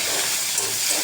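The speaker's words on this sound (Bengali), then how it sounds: "এখন আমি সিম বরবটি আলু ভাজি করব।" Green beans, flat beans and potatoes fry in hot oil, giving a steady, loud, even sizzling hiss that holds without a break and has no voices over it.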